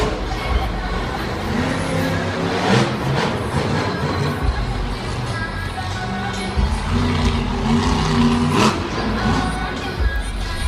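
A monster truck tears through a run at Monster Jam Brussels 2015, a loud continuous engine roar with surges and a crowd wash behind it, all under a commentator talking throughout.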